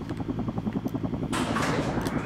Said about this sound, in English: Why do I hear a helicopter?